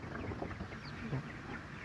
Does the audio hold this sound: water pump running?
no